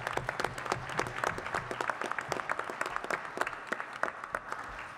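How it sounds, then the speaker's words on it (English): An audience applauds steadily at a diversity and multicultural affairs session on the Black community and law enforcement, a dense patter of many hands clapping for the full five seconds at moderate distance. "give yourselves a round of applause for being here"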